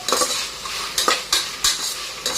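Carrots and beans sauté in a pan for paneer biryani, with a steady sizzle broken by repeated scraping stirs of a spoon against the pan, close and fairly loud, with no voices.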